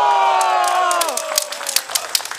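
Carnival crowd at a Fasnacht gathering in Konstanz applauding and cheering, scattered claps and shouts rising over a fading brassy musical tone.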